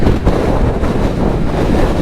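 Strong wind buffeting the microphone at the Mont Ventoux summit finish after a 1000 km Aubrac–Cévennes–Ventoux ride, a loud, continuous low roar with gusty surges and no let-up.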